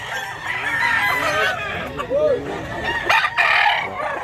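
Several roosters at a poultry sellers' yard in Mantalungon, Cebu, crow one after another, some near and some farther off, overlapping amid ambient farmyard noise.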